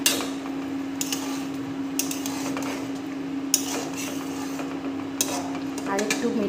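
A spoon clinks and scrapes against a pan while a cornflour slurry is stirred into Chicken Manchurian, with a few sharp taps at irregular intervals over a steady hum.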